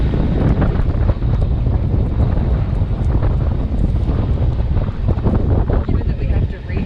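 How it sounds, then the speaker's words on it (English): Strong wind buffets and roars across the microphone aboard a sailboat under way, a loud continuous gusting rush with low rumble and splashy texture, while voices speak underneath. "Wind's coming from a good direction."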